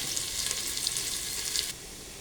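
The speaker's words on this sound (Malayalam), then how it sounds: "അതെല്ലാം നമുക്ക് ഈ എണ്ണയിലിട്ട് നമുക്കൊന്ന് വഴറ്റിയെടുക്കാം." A medium onion and a half, sliced, sautés in oil with a bright, close, steady sizzle that drops away suddenly after a moment, leaving a quieter hiss.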